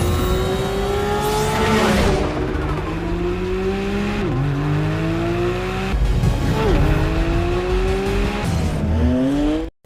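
A Porsche 718 Cayman GT4 RS with a flat-six engine revs hard through rising gears, each upshift dropping the pitch before it climbs again, loud and close, with brief tire squeal as it drives.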